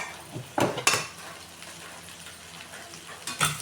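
Spoon stirring bitter gourd sabzi with small lemon pieces in a pan, a few sharp scrapes and clinks against the metal over a faint steady sizzle, close and with no talk.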